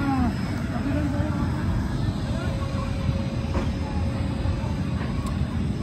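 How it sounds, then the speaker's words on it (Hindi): Passenger train moving at night, heard from inside the carriage as a steady low rumble and rattle with a faint whine, continuous throughout, with talk over it. "अब देख सकते हैं फाइनली हमारा ट्रेन छोड़ दिया है"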